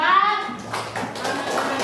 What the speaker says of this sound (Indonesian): tepuk tangan semua untuk kelas 4